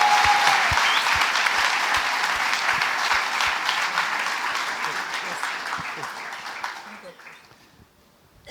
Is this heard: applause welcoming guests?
yes